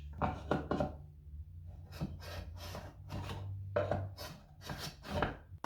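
A combination square guided along the face of a wooden trim board while a line is etched into it, giving several short close scraping strokes in bursts over a low steady background hum.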